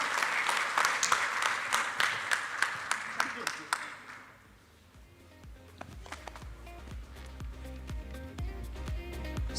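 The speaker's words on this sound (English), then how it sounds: "So a big round of applause for our friends from Abu Dhabi." An audience at an international accountants' conference in Kuwait bursts into loud applause that fades after about four seconds, giving way to quieter music with a steady beat.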